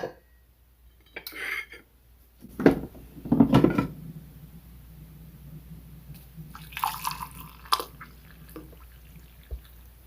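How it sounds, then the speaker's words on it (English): Hot water is poured into a cup holding two hibiscus tea bags, with clinks of a kettle and mug, a short trickling splash, and scattered drips and small taps in a quiet kitchen. "I'm just going to pour some hot water in there."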